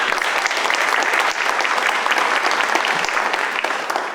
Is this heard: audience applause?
yes